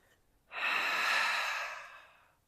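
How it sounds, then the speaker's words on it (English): A single long, breathy exhale released during a back-arching stretch, close and clear, rising quickly and fading out over about two seconds in a quiet room. "we'll be breathing out, releasing our breath as we arch our back"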